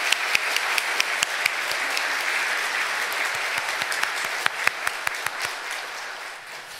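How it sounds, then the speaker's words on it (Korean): A church congregation at an Easter Sunday service applauds the choir, accompanist and conductor, steady full clapping with sharper individual claps standing out, sustained throughout and tapering slightly at the end. "다시 한번 우리 격려의 박수로 우리 함께 했으면 좋겠습니다"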